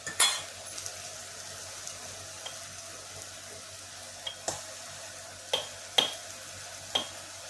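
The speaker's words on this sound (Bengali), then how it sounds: "একটু ভাজা ভাজা হোক।" Chicken pieces frying in a pan for a spicy stew, giving a soft, steady sizzle with occasional sharp clicks and scrapes of stirring, fairly quiet and close.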